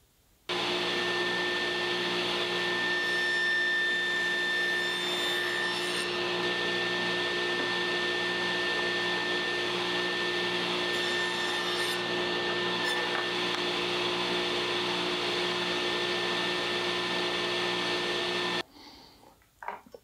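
A table saw runs as a steady loud whine while cutting miters in a wooden board, holding an even drone for nearly the whole stretch before cutting off abruptly near the end.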